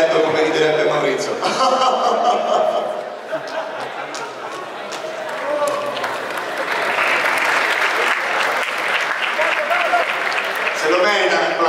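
Audience at the Etna Comics 2022 pop-culture festival in Catania applauding a stuntman after his fall, loud sustained clapping with crowd chatter and laughter throughout.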